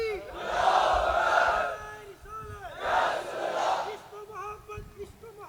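A large crowd at a Sunni religious gathering in Hyderabad chants slogans in loud, sustained unison bursts, two long surges of massed voices separated by a brief dip.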